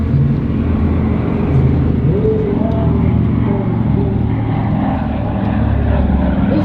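A C-47 Dakota propeller aircraft, built for the United States Army Air Force and later flown by the RAF, drones steadily with a throbbing piston-engine hum at moderate distance beneath a narrator's voice.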